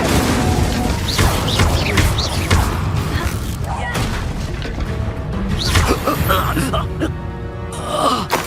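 An Incendio fire spell is cast in Hogwarts Legacy, a dense burst of booming, crackling magic and combat clatter with a whooshing flare, loud and continuous amid other game effects.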